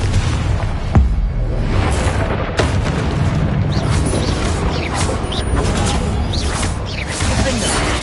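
Confringo blast spell cast in the Hogwarts Legacy video game, a loud booming explosion amid a dense, continuous wash of game combat noise with several sharp impacts.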